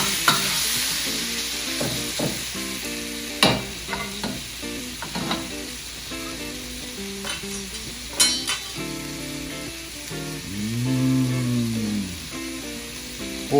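Beef sizzles and crackles in a hot wok while a utensil scrapes and stirs repeatedly, with occasional metallic clinks.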